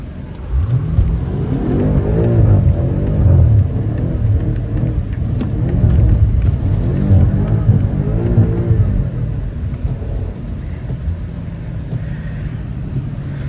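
A BMW F90 M5 revs hard while drifting around a pit, its engine swelling and dropping through rising and falling pulls, loud and fairly close, with tyre and wind noise behind.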